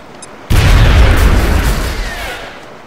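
A frag grenade goes off in the XCOM Long War video game: a sudden loud, deep boom after a brief quiet moment, followed by a long rumbling decay that fades over a couple of seconds.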